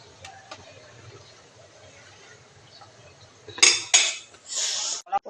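Metal spoon scrapes and clanks against a cooking pot as salted cooked rice is stirred, a few loud bursts of scraping near the end after quieter kitchen background.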